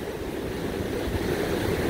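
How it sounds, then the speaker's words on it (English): Seawater steadily pouring and surging past a destroyed seawall after Hurricane Nicole, a constant broad rush of water with wind buffeting the mic and no voices. "This water is steadily pouring in"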